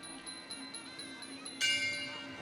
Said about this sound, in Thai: เสียงระฆังมาแล้วครับ